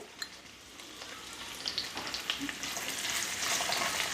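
Chopped onion sautéing with whole spices in hot oil and ghee, a soft sizzle that starts quietly and swells louder, with light stirring scrapes and no speech.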